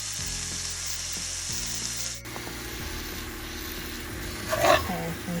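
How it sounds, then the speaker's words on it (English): A bun toasts in a pan still hot from sauteing mushrooms, with a steady close sizzle, a faint background hum, and one brief louder scrape near the end. "I'm gonna toast my bun in the same pan"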